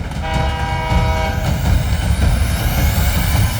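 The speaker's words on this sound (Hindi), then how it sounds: "अब देखता हूँ तुम लोग उस ट्रैक पे आने वाली ट्रेन को कैसे बचाते हो।" Cartoon train rumbling steadily along a track as it approaches, with a loud horn tone sounding over continuous rail noise throughout.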